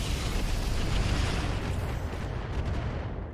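A rocket launcher salvo in the RogueTech mech game: a dense, roaring blast fills the whole stretch, loud and sustained, rumbling heavily before thinning slightly toward the end.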